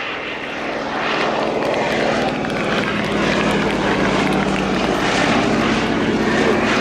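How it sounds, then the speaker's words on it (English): A Blackburn-built Fairey Swordfish Mk 1 biplane, delivered to the Royal Navy in 1941, makes a final flypast at Yeovilton Air Day; its piston engine and propeller drone steadily and loudly with broadband wind noise throughout. "Final pass from the Swordfish 1, and a final wave."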